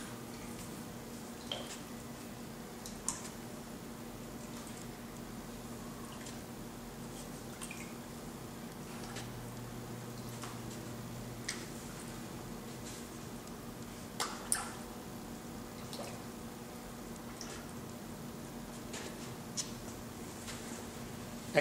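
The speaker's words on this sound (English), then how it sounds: "I'm going to stir a little bit so to check the whole glaze, see if it's at the right thickness" A black ceramic glaze mixture is stirred in a quiet room, giving faint, sparse wet drips and soft squishes with occasional small clicks over a low steady hum.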